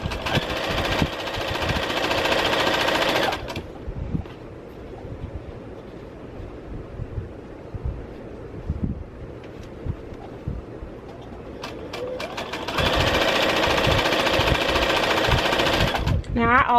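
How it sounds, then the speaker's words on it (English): A sewing machine stitches a quilt block in fast loud bursts at the start and again near the end, with a quieter stretch between where someone talks over soft handling noises. "So I'm going to go ahead and sew this block together with the blue in the center."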